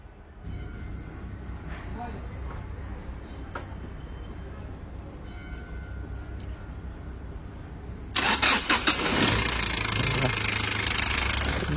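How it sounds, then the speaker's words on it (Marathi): A vehicle engine is cranked by its starter motor and fires up abruptly partway through, shifting from a low rumbling idle to a loud, broadband roar that holds steady to the end. "तर आता स्टार्टर मारे"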